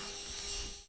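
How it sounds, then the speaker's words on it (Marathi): An electric fan whirs steadily at close range, a faint, even hum with a slight buzzing tone that holds throughout the brief moment, with no voices. "माझा पंखा."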